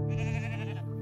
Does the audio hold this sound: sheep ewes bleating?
yes